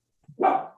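An 18-year-old dog gives a single short, loud bark close by in a home kitchen, with a faint low huff just before it.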